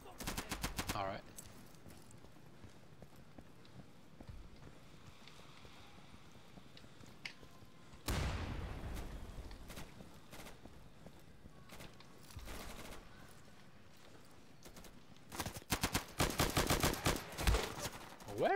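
Gunfire in the tactical shooter game Insurgency, with bursts of rapid automatic shots at the start, a loud volley near the middle and dense, repeated firing toward the end, over a steady background.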